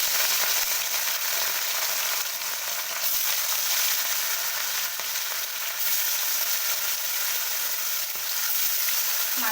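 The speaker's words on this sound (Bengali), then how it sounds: "এবার আমি মাছগুলো ভেজে নেব।" Katla fish fry in hot mustard oil in a wok, giving a steady, loud sizzle and crackle that stays dense and unbroken from start to finish with no talking.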